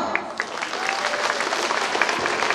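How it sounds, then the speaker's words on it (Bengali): Schoolgirls at a student programme clap together in a steady round of applause, moderately close and continuous, with no voices over it. "তোমরা করতালি দাও।"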